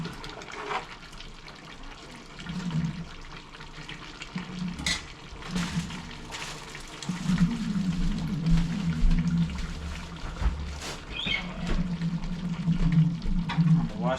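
Tap water runs steadily in a home kitchen while meat is rinsed for a curry, a continuous splashing flow that swells louder in the second half, with no talk over it.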